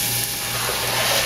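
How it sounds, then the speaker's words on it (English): Sausage, garlic, fresh sage and onion sautéing in a pan after a shot of olive oil spray, a close, steady sizzling hiss with no talking. "I'm gonna let this saute for a while until my onions get nice and soft."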